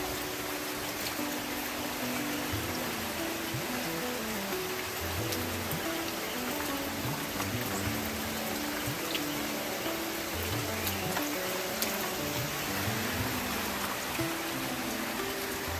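Steady rain patters and hisses on surfaces throughout, falling on beehives, with scattered louder drips and a faint low rumble underneath, no talking.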